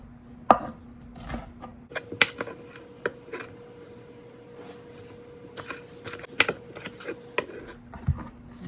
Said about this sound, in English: let's start first with my yellow pepper. No particular way, I'm just making slices.